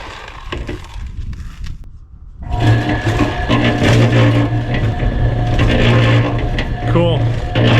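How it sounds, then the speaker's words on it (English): Steel pieces tumble inside a rusty Honda ATC200X gas tank to scour out rust, a steady loud rattling and grinding churn close up after a few quieter knocks, with someone talking over it. "Just keep letting it rattle and roll around until all the rust is gone."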